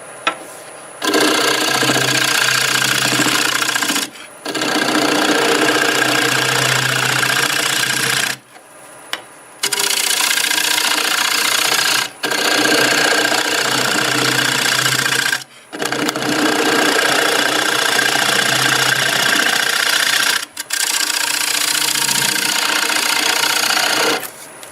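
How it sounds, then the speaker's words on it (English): A bowl scraper cuts wood on a lathe in loud, sustained buzzing passes of a few seconds each, separated by short pauses, with no talk. "I'm going to let you see how it cuts in there with this tool."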